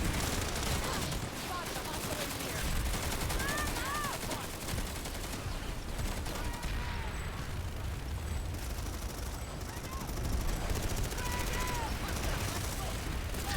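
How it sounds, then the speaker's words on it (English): Constant dense gunfire from the sci-fi shooter PlanetSide 2, a roaring continuous fusillade with bursts layered over a noisy battlefield, loud throughout with faint tonal effects. "They're shooting bullets!"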